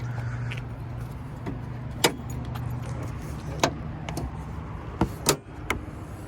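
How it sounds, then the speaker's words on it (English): The hood of a Ford Excursion is released and lifted, giving a few sharp clicks and clunks over a steady low engine hum nearby, with no voices. "first thing you're going to want to do is pop the hood, come around and open that up"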